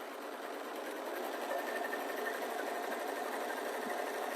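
A sewing machine runs steadily and continuously, stitching a half-inch seam down the side of a small swim bag in one unbroken close-up run.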